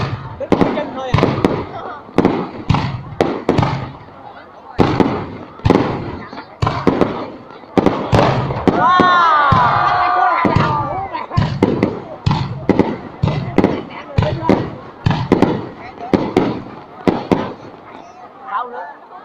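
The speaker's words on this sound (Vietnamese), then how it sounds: "Pháo nữa." Village fireworks bang in a rapid, loud series of sharp booms and crackles, with a brief whistling burst near the middle and people talking under the blasts.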